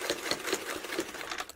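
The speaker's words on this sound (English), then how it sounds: "I'm going to now sew until the template stops me." A sewing machine stitches along a quilting template, its fast, even mechanical chatter running steadily and loudly up close with no pauses.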